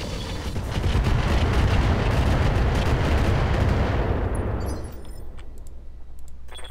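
Sustained roaring blast of ER large laser weapons fire from a mech in Roguetech BattleTech, loud and continuous for several seconds before dropping away into quieter clicks and background noise.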